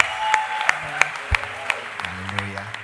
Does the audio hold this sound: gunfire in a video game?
no